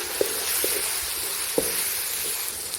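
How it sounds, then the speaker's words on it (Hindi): Ginger fries in a pan while being mixed, a steady low sizzle broken by a few soft, scattered knocks and scrapes of stirring. "अब हम इसमें अदरक ऐड करेंगे। मिक्स करेंगे।"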